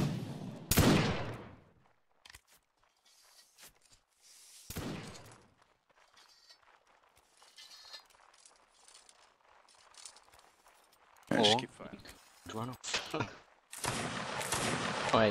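Musket shots ring out in a Napoleonic Wars skirmish in Mount & Blade: Warband, a few sharp isolated cracks early, then a denser cluster of reports near the end, with quiet gaps between and occasional voices.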